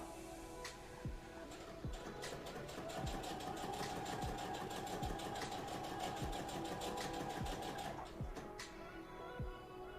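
Sewing machine stitching stretchy cosplay fabric, a steady run of rapid needle strokes that holds for most of the stretch, brief pauses between short bursts, close and loud with a faint background hum.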